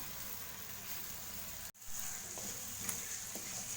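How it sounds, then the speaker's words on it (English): Potatoes and cauliflower fry in masala with a continuous close sizzle, broken by a brief pause midway, then resuming with a few light stirring clicks. "So you have to fry it for another 1 minute."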